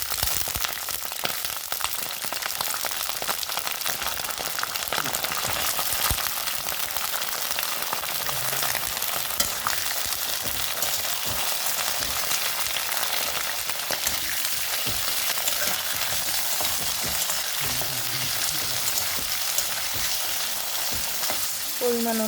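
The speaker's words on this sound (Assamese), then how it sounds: "এতিয়া মই টেঙৰিখিনি দি দিছোঁ।" Goat trotters frying with fried onions and bay leaf in a pan, a steady, close, rain-like sizzle that runs unbroken with occasional faint stirring.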